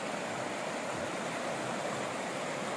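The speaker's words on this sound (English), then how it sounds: "while hearing the river sound" A river in Slovenia's Logar Valley rushes with a steady, even broadband wash of flowing water, constant and unbroken, with no voices.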